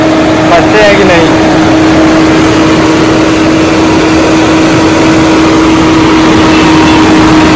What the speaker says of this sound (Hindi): देखते हैं स्टार्ट कर रहे हैं गाड़ी